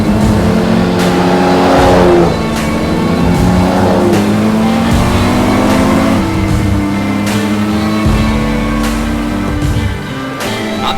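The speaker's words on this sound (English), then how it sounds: "it's the Aston Martin driven by Collins and Griffiths that's going to do it" An Aston Martin sports racing car at the Goodwood Revival, its engine revving hard and loud and climbing through the gears at close range, with tire noise and a slight fade near the end.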